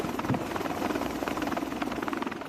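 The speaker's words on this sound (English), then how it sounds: "Beneath the helicopters, the Seahawks lifted off, flew the short distance to the supply ship and back" Navy Seahawk helicopters in flight, their rotors beating in a fast, even pulse that stays loud and close throughout the short stretch.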